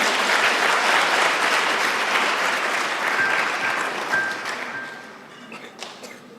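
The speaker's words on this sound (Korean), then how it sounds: "여러분 큰 박수로 환영해 주시면 감사하겠습니다." Loud, dense applause from an audience welcoming performers at a Teachers' Day ceremony, sustained at first and then thinning and fading, with a faint ringing tone partway through.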